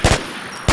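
Two shotgun blasts in the video game Infestation, loud sharp reports roughly half a second apart, each with a brief ringing tail.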